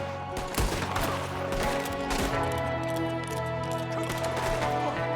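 Gunfire erupts in a Western town shootout in Red Dead Redemption 2, several sharp rifle and pistol shots cracking over a steady music bed, loud and close.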